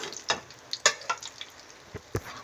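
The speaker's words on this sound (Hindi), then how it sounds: "इसी तरह हम बाकी भी कर लेते हैं फ्राई" Battered milk-fried chicken pieces frying in hot oil, with soft sizzling under a scattering of sharp clicks and knocks from utensils against the pan, close by, with no talking.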